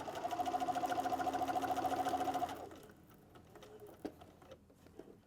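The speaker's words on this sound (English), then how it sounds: "and then keep sewing." Sewing machine stitching through a quilted wall calendar, a fast, even chatter of needle strokes for a couple of seconds, then stopping, leaving a few soft clicks and handling noises.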